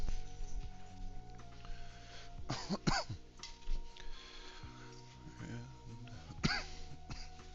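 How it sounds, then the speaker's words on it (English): A person coughs and clears their throat several times in a quiet room, with faint background sounds between the bursts. "Ugh, stupid throat cough."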